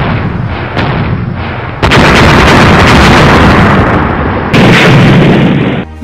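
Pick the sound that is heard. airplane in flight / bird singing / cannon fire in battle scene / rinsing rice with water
cannon fire in battle scene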